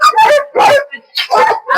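Dogs at a dog shelter bark and yip loudly and close by in about five quick bursts, some whimpering and whining between them.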